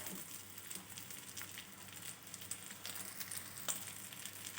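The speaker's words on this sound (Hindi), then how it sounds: "मैंने तमाम कटलेट्स अच्छी तरह से फ्राई कर लिए हैं।" Chicken potato cutlets fry in hot oil with a steady, close sizzle and light crackle, the bubbling continuous and fairly faint with no voices.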